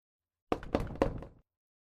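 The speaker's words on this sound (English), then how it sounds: "3 knocks, louder than before, hungrier than before." Three heavy knocks land in quick succession on a window, loud and close, then the sound cuts off into silence.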